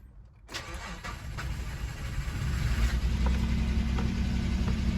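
A Nissan VG33 engine cranks and fires up after a quiet moment, then settles into a steady, loud, close idle with a low rumble that builds slightly and holds.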